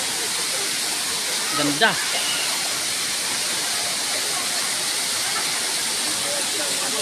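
Batlag Falls waterfall gives a steady broad rushing hiss throughout, loud and constant, with a brief voice speaking briefly over it near the start.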